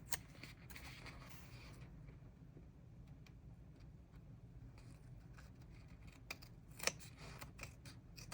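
Scissors snip through journal paper pages in a quiet room, a series of soft, close crisp cuts with short pauses between them, and a sharper snip near the end.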